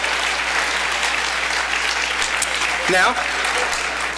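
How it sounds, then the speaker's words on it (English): Gala audience clapping their hands together in a steady, dense burst of applause, loud and sustained, with a brief whistle-like voice rising partway through. "Everyone, clap your hands if you believe that."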